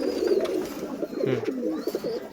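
A pair of teddy pigeons cooing up close, soft throaty repeated coos in a gentle rolling rhythm with a few faint chirps above.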